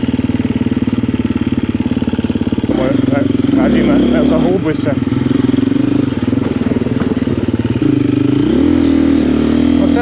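A Yamaha Serow motorcycle engine rumbles loudly and continuously at close range while riding, with a brief voice calling out over it and shifts in engine pitch.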